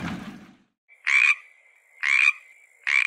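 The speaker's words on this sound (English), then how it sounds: "Frog." A frog gives three loud, evenly spaced croaks, each a short raspy burst about a second apart, clear and alone after a brief noisy start.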